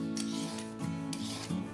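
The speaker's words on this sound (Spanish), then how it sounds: "La pelamos con un pelador" A vegetable peeler scraping along a carrot, three rhythmic rasping strokes in close succession, crisp and near, with no talk.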